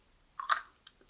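A couple of quick, crisp crunches from a bite into a crispy potato snack, followed by a few faint smaller crackles; close and otherwise quiet.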